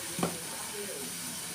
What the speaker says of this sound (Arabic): جايه مقلباه الباميه مع الطماطم اهي